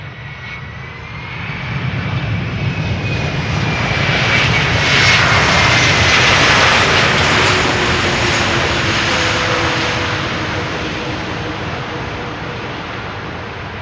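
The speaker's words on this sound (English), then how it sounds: "A320neo arriving from Dubrovnik." An Airbus A320neo airliner arriving at Schiphol's Polderbaan runway roars past outdoors in warm weather, swelling to a loud peak midway and slowly fading, with whining engine tones over broad rumble.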